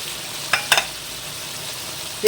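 Tomatoes frying with cinnamon, cloves and chopped cardamom in a pan for a chicken curry with potatoes, a steady soft sizzle with a few brief stirring scrapes, no voices.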